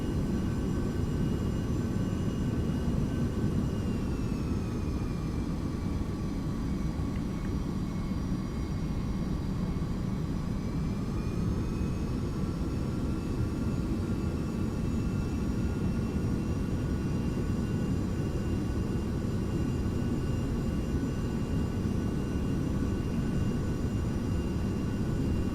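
A Carenado 390 Premier business jet in a flight simulator game, its engines a steady loud whine and rumble with faint high tones shifting slightly as it turns to line up on the runway, continuous and without speech.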